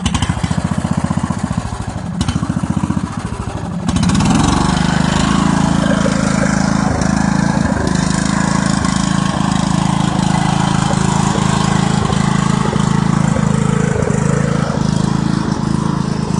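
A tractor engine running loud and close, starting rough and uneven, then throttling up into a steady, heavy rumbling drone that holds for the rest of the clip.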